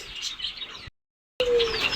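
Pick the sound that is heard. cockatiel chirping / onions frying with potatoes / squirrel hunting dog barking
cockatiel chirping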